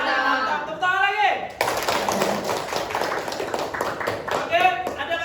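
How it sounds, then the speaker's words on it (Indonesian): A classroom of students applauding another group, a burst of many hands clapping for several seconds, with a teacher's voice speaking before and at the end. "Mantap, tepuk tangan lagi."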